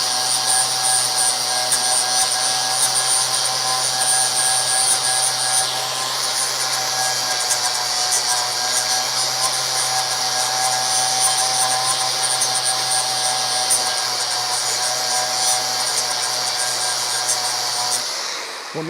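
An angle grinder grinding down a plug weld on car body metal of a Crew Cab Charger project, a loud steady high whine with a continuous gritty rasp for nearly the whole stretch, cutting out at the end.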